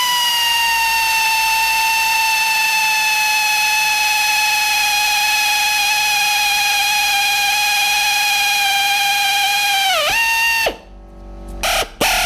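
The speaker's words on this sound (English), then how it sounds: "go and pilot that and then drill it out with a 7mm" An electric drill fitted with a 7mm bit whines at a steady high pitch while boring out a hole on a Honda NC50 scooter, then dips and winds down as the trigger is released.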